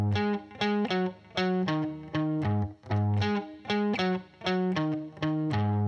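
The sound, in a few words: guitar playing classic blues shuffle bass line riff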